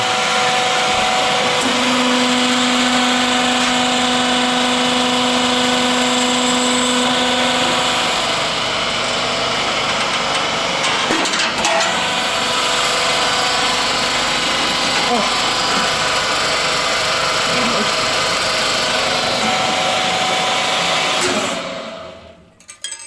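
A CNC milling machine runs with a loud, steady whine and broadband roar that holds for about twenty seconds before winding down at the end.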